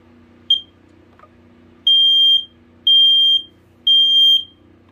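A First Alert 3120B dual-sensor, hardwired smoke alarm running its self-test gives a short chirp, then three loud, piercing beeps of about half a second each in an even rhythm. A low hum sits steadily underneath.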